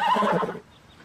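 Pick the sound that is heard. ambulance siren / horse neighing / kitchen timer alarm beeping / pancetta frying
horse neighing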